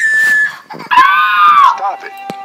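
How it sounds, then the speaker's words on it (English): A woman screams loudly in a played video clip, a sustained high-pitched shriek lasting about a second, followed by a shorter cry; other voices talk over it before and after. "She's screaming her head off."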